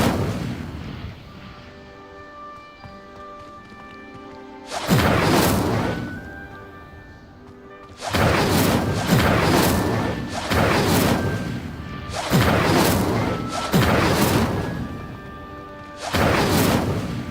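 Fire spells cast in the Hogwarts Legacy video game come as a series of loud, sudden whooshing blasts, about five bursts separated by quieter gaps that carry a soft tonal hum.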